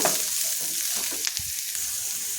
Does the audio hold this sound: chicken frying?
yes